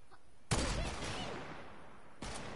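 Video game gunfire bursts out as a dense, loud volley of shots lasting under two seconds, followed by another burst starting at the end.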